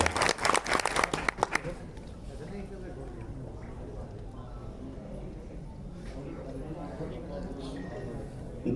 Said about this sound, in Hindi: एक बार ताली बजाइए जब भी साउंड कंट्रोल करें।